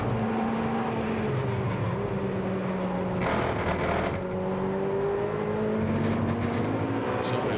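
A Ferrari Challenge race car brakes hard downhill at Budapest, its engine note a steady mid-distance drone, dropping in pitch as the car slows.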